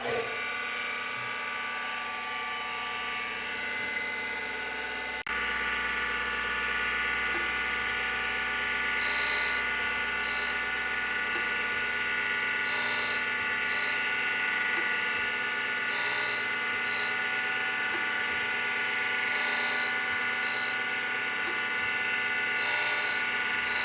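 A grinding wheel sharpens a straight reamer with a light half-thou pass, the wheel running in reverse. It gives a steady, loud, high whine with a faint, even scraping contact throughout and no talking.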